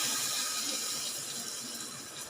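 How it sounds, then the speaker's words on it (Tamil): Water is poured into a pot of lentils for a Tamil paruppu kulambu, making a steady, close hissing splash that runs evenly throughout without any voices. "ஒரு கப்பு அளவுக்கு தண்ணி விடுறாங்க"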